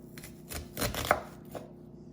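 Knife dicing vegetables on a cutting board, a few separate chops and taps close by, with a sharper knock near the middle, no talking.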